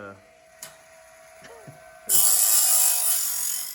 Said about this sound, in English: Sawmill blade sharpener and testing it out on an old blade here